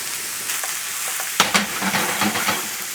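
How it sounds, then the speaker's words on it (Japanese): Mushrooms for hayashi rice stir-fry over high heat, a steady close sizzle with occasional stirring scrapes and clatters as the moisture cooks off. "強火の状態でたまに混ぜながらし水分を抜くような感じで炒めていきます"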